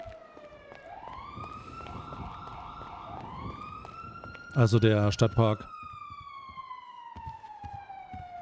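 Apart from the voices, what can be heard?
siren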